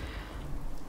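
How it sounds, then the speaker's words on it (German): Steady, dense rain pours down in Fallout 4, a constant close wash of noise with low rumbling underneath and no voices. "Ja, es regnet, ich weiß"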